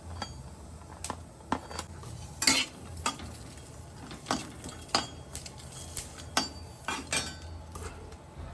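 Faint dry scraping and clinking of a utensil against a pan as green chilies dry-roast without oil, repeated irregularly, with a soft crackle underneath and no speech.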